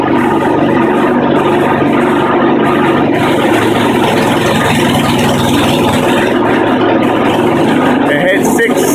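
An old lawnmower engine drives a 12V generator, giving a loud, steady, continuous drone that holds at a constant pitch for the whole stretch.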